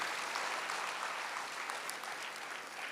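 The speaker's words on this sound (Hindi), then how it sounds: "आप सभी के लिए सब जोरदार तालियां सभी के लिए।" Audience at a religious gathering gives dense, sustained applause, a close continuous wash of clapping lasting the whole few seconds.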